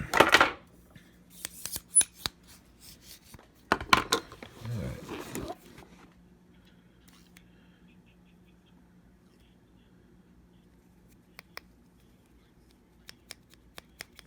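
Plastic Hyper Tough inspection retrieval tool tapped up close: a few sharp clicks at the start, a denser cluster of knocks in the middle, then sparse faint ticks over quiet room hum.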